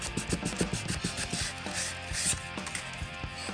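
Sandpaper rubbing over old wood for a junk-built RC truck flat bed, a steady run of close, scratchy strokes with a few light knocks, no talking.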